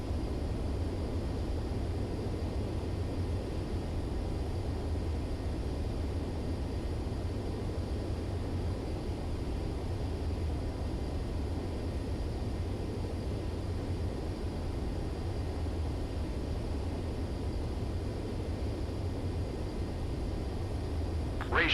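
Fighter jet engine in the Ace Combat 7 video game on landing approach, a steady, continuous roaring whoosh of turbine noise that stays even and unbroken for the whole stretch, with no other sounds above it.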